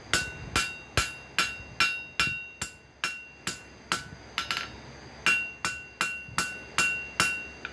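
Steady, evenly spaced hammer strikes ring out planishing metal scrolling tong blanks, each blow bright and clanging with a short decay, continuing without talk.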